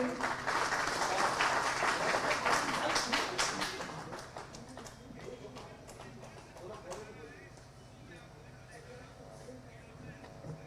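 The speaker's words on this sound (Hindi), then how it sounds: "ये तालियां हल्की थी" Light applause from the audience at a Hindi comic poetry gathering, following a chanted invocation to Goddess Sharda; broad clapping is loudest for the first few seconds, then fades to scattered claps and murmuring.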